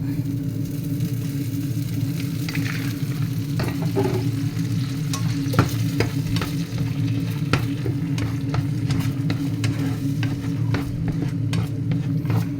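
Sweet and sour sauce with vinegar cooks in a pan, a steady bubbling sizzle over a low humming rumble, punctuated by sharp clicks and utensil scrapes, with little talking.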